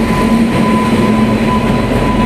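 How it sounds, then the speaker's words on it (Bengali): A Howrah–Prayagraj train rumbles loudly and continuously nearby, a low steady roar with a faint high whine over it, as if pulling into a station. "ট্রেন ঢুকে গেছে"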